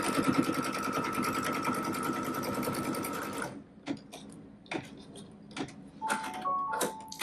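A sewing machine stitches a quilt block seam with a steady, rapid mechanical whir for about three and a half seconds, then stops, leaving faint handling clicks and small taps.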